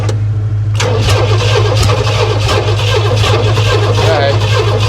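A 1968 Oldsmobile Toronado that sat for 46 years cranks and tries to start, its carbureted engine catching into a loud, steady, rough running rumble that continues close to the microphone for the rest of the clip.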